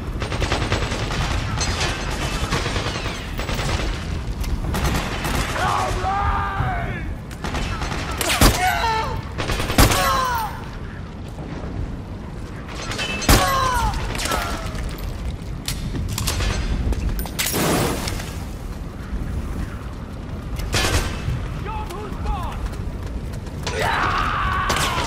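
Rifle gunfire in a chaotic battle, bursts of shots and rapid fusillades crackling over mechanical creaks and booms across the whole stretch, with occasional voices mixed in.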